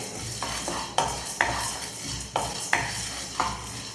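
Lentils dry-roasted in a pan for tamarind rice powder, stirred with a spoon: several distinct scraping sweeps and light clinks in a loose rhythm, close and moderately loud, over a faint sizzle.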